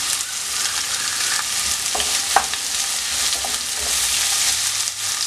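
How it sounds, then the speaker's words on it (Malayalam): Sliced onion sautés in a pan for a soya chunk roast, giving a steady, loud sizzle with faint stirring scrapes throughout and no voices. "അതിനകത്തേക്ക് ചേർത്ത് വഴറ്റിയെടുക്കാം. ഈ സവോള നല്ലതുപോലെ ഒന്ന് വഴണ്ട് വരട്ടെ."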